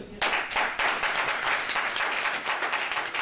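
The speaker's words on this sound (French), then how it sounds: "je pense qu'ils sont à applaudir" Audience at a general assembly claps steadily and fairly near for the whole stretch, a dense broadband patter of many hands with no voices above it.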